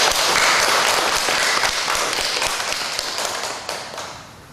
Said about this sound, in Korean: 큰 감사와 격려의 박수를 보내주시기 바랍니다.